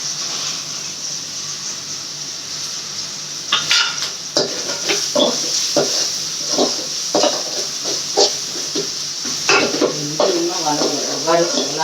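Tomatoes sautéing with salt in a pan, with steady sizzling and repeated scraping stirs of a spoon against the metal, close and clear, with faint talk in the background.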